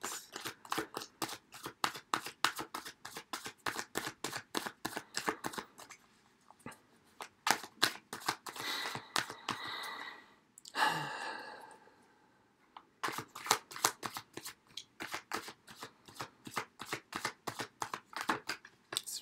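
A deck of tarot cards is shuffled close up, in long runs of rapid, crisp riffling clicks. A brief pause with a softer rustle sits in the middle before the steady shuffling resumes.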